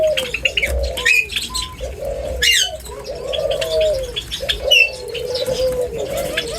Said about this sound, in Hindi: ये है उसी योमो पेस्टल वाली बर्डिंग से आया हुआ सिल्वर बर्ड।